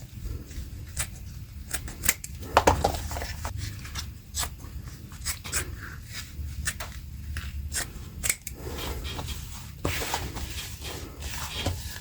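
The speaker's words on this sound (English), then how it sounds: "Cut a leather strip about 10 centimeters wide, matching the leg circumference." Scissors snip through a leather strip roughly ten centimetres wide, a steady series of short crisp cuts and rustles over a low background hum, close by and moderately loud, no speech.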